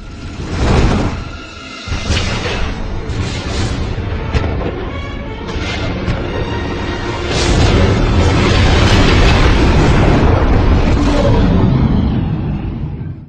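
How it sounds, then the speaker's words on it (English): Giant explosion sound effect in a Star Wars: The Force Unleashed parody, a loud, sustained roar of booming blasts and rumbling debris that swells again midway and stays dense to the end. "I just heard a giant explosion."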